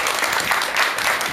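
Audience applause after a host invites a doctor up to lecture on who the Buddha was, a dense steady patter of many hands filling the room at close range, brief and uniform.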